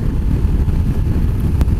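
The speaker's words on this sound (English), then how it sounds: "pretty dang windy right now." Strong wind buffets the microphone outdoors in Argentina, a steady low rumbling roar that fills the whole clip with no voices.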